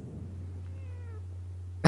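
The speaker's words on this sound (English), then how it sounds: "Is that a cat?" A cat gives a single short meow, fairly close and clear over a low steady hum, with a sharp brief noise at the very end.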